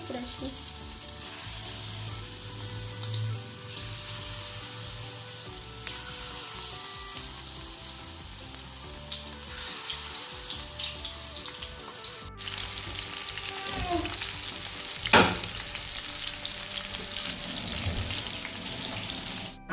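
Chicken pakora frying in hot oil gives a steady, dense sizzle that runs the whole time, with faint clinks and a sharp knock near the end and no talking.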